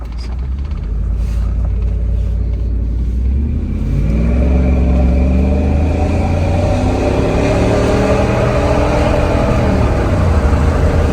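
An old truck's engine idles while warming up, a steady low rumble that grows slightly fuller partway through, close and continuous with no talk.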